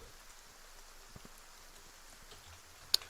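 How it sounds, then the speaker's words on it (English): Faint, steady rain patters on a surface in a quiet outdoor setting, with one sharp brief tick near the end. "It is raining."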